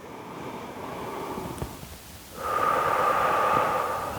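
A slow yoga breath taken while holding a twisting crescent pose, with a soft airy inhale followed by a louder, steadier exhale that swells toward the end, close to the microphone.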